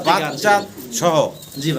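Fancy pigeons for sale coo nearby in several soft, throaty, rolling calls, one after another, close and fairly loud.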